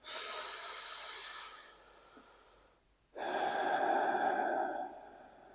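Slow, deep breathing at a calm meditative pace: a long, airy exhale lasting a couple of seconds, a short pause, then a fuller inhale, heard close up with no talking.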